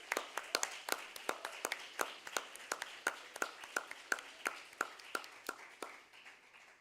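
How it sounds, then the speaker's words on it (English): An audience claps for the winning team at a law school negotiation competition's closing ceremony, a steady run of distinct, fairly sparse handclaps in a room, moderately quiet and without voices over it. "Can we have a big round of applause for our winning team"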